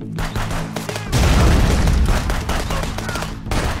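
Gunfire in the video game Contraband Police comes as a dense, loud burst of overlapping rapid shots and booms, heaviest in the middle of the stretch.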